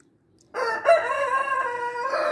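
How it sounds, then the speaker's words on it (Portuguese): Loud bird call from a backyard fowl, sustained for about two seconds after a short silence, rich in harmonics and close to the recorder, with no talk over it. "Só o peru que tá cantando"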